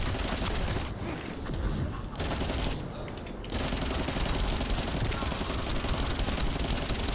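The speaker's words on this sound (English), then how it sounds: "I'm shooting them in the face as they try." Rapid gunfire in the looter shooter The First Descendant, aimed at exploding enemies at a doorway: a loud, near-continuous stream of shots that breaks off twice for brief pauses, then resumes steadily.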